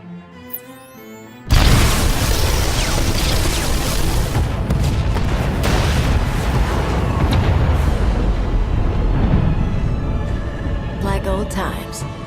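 Explosion blasting power junctions in the sci-fi video game Knights of the Fallen Empire, a sudden loud boom after a brief quiet start, followed by a long roaring rumble of debris and fire that slowly fades.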